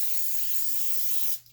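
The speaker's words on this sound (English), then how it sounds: "We're going to spray a little cooking spray," Non-stick cooking spray applied to a grill rack for boneless pork ribs: a single loud, steady aerosol hiss lasting over a second before cutting off abruptly, heard alone up close.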